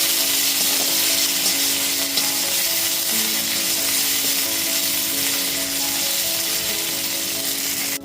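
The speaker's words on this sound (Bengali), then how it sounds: "আদা বাটাটা দিয়ে দেওয়ার পর খুব ভালো মতো একটুখানি নাড়াচাড়া করে নিচ্ছি।" Ginger paste sizzles steadily in a hot pan while being stirred, a loud continuous frying hiss with faint scraping throughout, for a traditional Bengali biulir dal.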